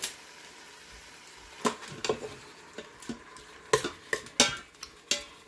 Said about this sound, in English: I'm just going to saute this probably for about 5 or 6 minutes to get it going